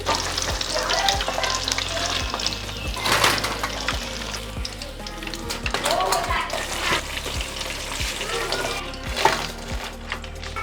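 Bottle gourd fritters deep-frying in oil, a dense bubbling sizzle throughout with repeated low thumps and occasional utensil clinks, fairly close and loud.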